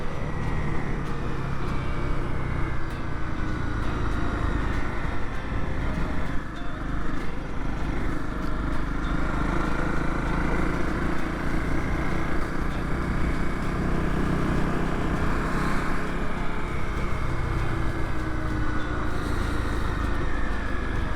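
A Honda CRF250L motorcycle being ridden along country roads, giving a steady, unbroken engine drone mixed with rushing wind, close and loud throughout.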